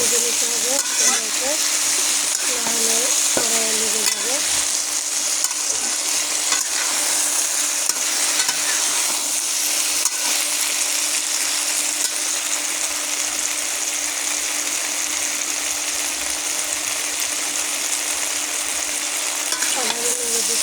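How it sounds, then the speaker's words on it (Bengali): Potato and eggplant pieces fry in hot oil in a pan while being stirred. A loud, continuous sizzle and hiss carries throughout, with a few scraping stirs and a brief voice near the start. "আমি আবার নেড়ে দিলাম, নেড়ে নেড়ে ভেজে নিচ্ছি"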